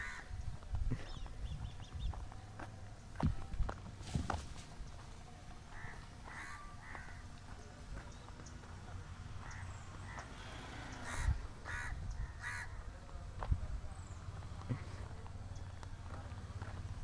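Crows caw repeatedly over a school compound as a drone flies overhead, with sharp calls scattered at mid distance over a low steady background and faint voices in places.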